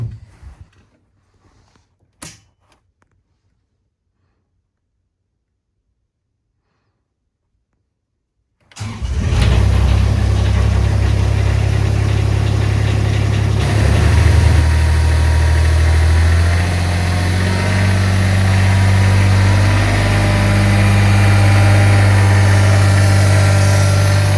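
A farm utility machine's engine cranks and catches after a few seconds of near silence, then settles into a loud, steady, rumbling idle close by.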